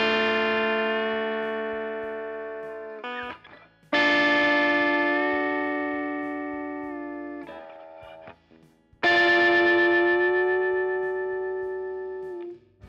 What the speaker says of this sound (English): bend the minor third up to a major third and get that pedal steel sound like this.